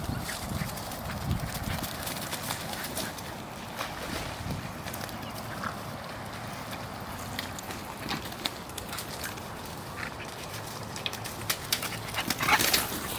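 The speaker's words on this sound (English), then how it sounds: "That's my dog." A dog is heard at home during an all-grain red ale brewing session with an Anvil Foundry 10.5: scattered close, soft whimpers and scrabbling, clicky sounds over steady room noise, with no one talking.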